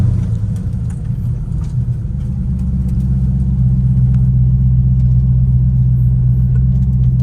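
Deep, steady engine rumble from an LS V8 in a Porsche 993 RWB, heard from inside the car while riding, loud and continuous with a slight swell in the second half.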